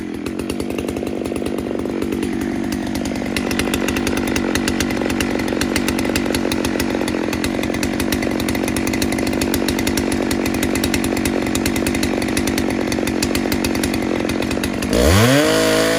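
A Dolmar 152 chainsaw, fresh from an ignition repair, idles and runs rich with a loud, steady, burbling two-stroke drone close by, then revs up sharply at the very end.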